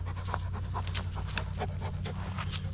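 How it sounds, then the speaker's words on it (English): A dog pants quickly and steadily close by, rapid rhythmic breaths continuing throughout with no talking. "my dog's trying to get involved here"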